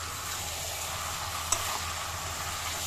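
Prawns sizzle steadily in a pan as they are stirred into spices, a constant close hiss with one brief utensil clink midway.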